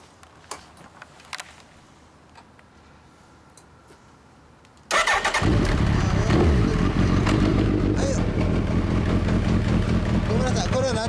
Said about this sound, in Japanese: エンジン音を聞かせてもらおうかな。